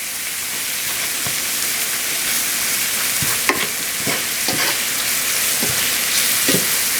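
Curry cabbage with yams and carrots sizzles steadily in a pan, a loud continuous hiss with scattered soft pops and occasional stirring scrapes.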